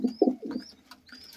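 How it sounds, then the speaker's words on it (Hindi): Pigeons give short, throaty coos close by, a few rounded warbling calls in quick succession with no talking over them. "देखिए भाई क्वालिटी देख लो कबूतरों की भाई"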